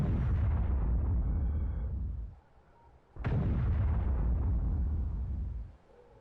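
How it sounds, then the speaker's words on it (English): Artillery shells from the Factorio video game slam into enemies in two loud, booming explosions, each rumbling out and fading before the next strikes, with no talking. "you can see the shells are hitting"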